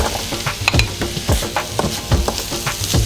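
Onions sauté in a hot pan with a steady close sizzle, broken by repeated rhythmic scrapes of a spatula stirring them every half second or so.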